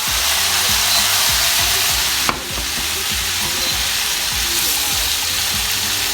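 Chicken gizzards stir-fry in green pepper sauce with soy sauce, sizzling steadily in a hot pan with rhythmic stirring scrapes and one brief clatter partway through.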